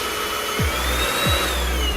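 A Black+Decker cordless vacuum cleaner runs with a steady, close whirring motor drone and a high whine, with a couple of brief low thumps as it is handled.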